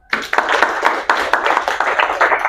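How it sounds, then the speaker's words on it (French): Audience applause at a taekwondo belt-grading ceremony at a club in Cocody, Côte d'Ivoire: a dense, steady burst of many hands clapping together, loud and sustained throughout. "On s'applaudit."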